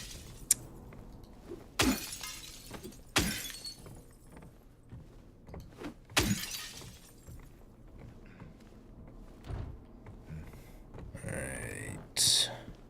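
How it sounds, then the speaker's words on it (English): Glass breaking in the video game Silent Hill 2 Remake: several sharp shattering crashes burst out at irregular intervals over a low, murky background hum. "Trying to break the glass."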